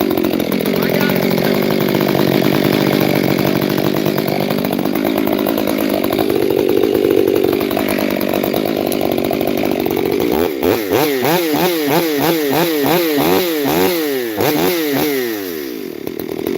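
A new Husqvarna chainsaw runs loud and steady close by, its engine whine rising and falling through revs, then the tone breaks into rapid sweeping pulses near the end as the load changes. A voice is faintly present beneath the motor.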